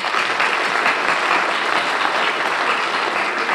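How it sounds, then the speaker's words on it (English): Steady, loud applause from a seminar audience, a dense and even roar of many hands clapping together that keeps up at full strength throughout with no talk. "I think you should applaud her for that"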